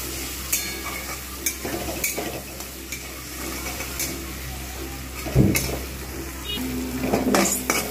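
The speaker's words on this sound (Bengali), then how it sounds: "এবার ডিমটাকে আমি ভালোভাবে ভেজে নেব।" Steady sizzling of an egg frying in a wok, with occasional sharp clinks and scrapes of a utensil against metal; no voices.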